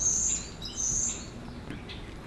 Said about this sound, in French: On entend juste les oiseaux et les écureuils.